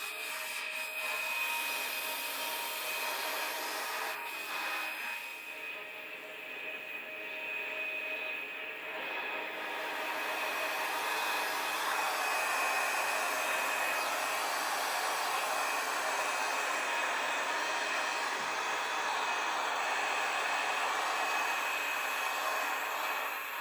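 A hair dryer held 30 to 40 cm above a canvas dries alcohol ink under epoxy resin, blowing steadily and loudly throughout, a constant broadband whoosh with slight shifts in pitch as it moves, no voices.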